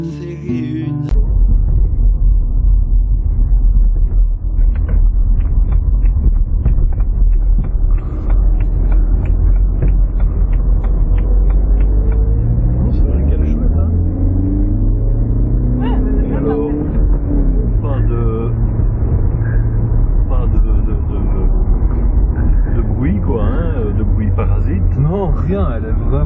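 Interior of a 2011 BMW 118i 1 Series with M suspension on the road, a steady loud engine and road rumble throughout while someone talks over it.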